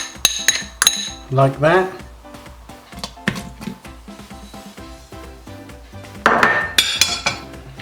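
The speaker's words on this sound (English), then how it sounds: "And we pop the lamb chops, and now pork chops, and now the garlic and onion" Lamb chops, pork chops, garlic and onion drop into a Pressure King Pro all-in-one pot, making a run of sharp clanks and clinks of metal and utensils in uneven bursts, with a brief spoken remark partway through.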